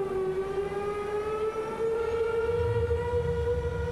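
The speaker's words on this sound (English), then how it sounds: "The air raid sirens have sounded." Civil defense air raid siren sounding in Belgrade during NATO bombing: a sustained wailing tone slowly rising in pitch, loud and continuous, with low rumble beneath and no voices.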